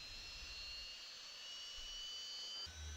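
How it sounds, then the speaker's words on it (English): Jet engine number 2 spooling up during an airliner start sequence in a home-cockpit flight simulator, a steady high whine and faint rumble that rises slightly, with a low thump near the end. "We have good ignition of the number 2 engine."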